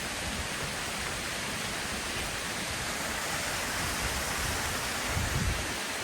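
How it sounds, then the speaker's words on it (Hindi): Waterfall on the route to Badrinath Dham in Uttarakhand, a steady, loud broadband rush of falling water that fills the whole stretch without a break, with no voices over it. "झरना बह रहा है ऊपर से।"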